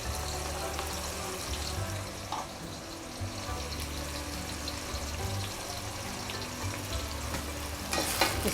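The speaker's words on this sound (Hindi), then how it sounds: "तेल हमारा बहुत अच्छे से गर्म हो गया। अब हम इसमें डालेंगे प्याज।" Onions frying in hot oil for chicken korma, a soft steady sizzle with a low background hum, quiet throughout and rising into a louder spatter at the end.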